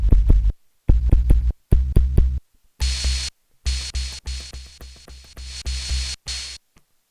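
Drum samples resampled from an OP-1 play back through a Teenage Engineering PO-33 K.O. pocket sequencer: a string of short, punchy hits with heavy low-end thumps and some noisier crackling bursts, spaced by brief gaps, with no talking.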